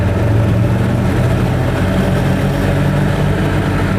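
An Invacar three-wheeled invalid carriage's small engine pulls away in a car park, a steady loud rumbling drone with no voices over it.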